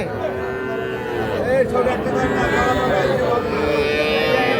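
Young bulls and heifer calves low at the Ambari cattle market (haat), with a drawn-out moo rising over a dense bed of market crowd noise and nearby chatter.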